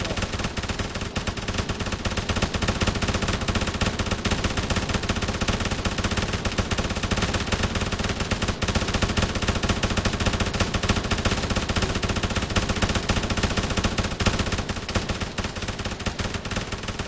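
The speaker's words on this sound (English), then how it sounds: "3, 2, 1, full auto fire." A squad in a video game firing weapons on full auto, a dense, unbroken roar of overlapping machine-gun bursts that stays loud and close for the whole stretch, with no talking heard.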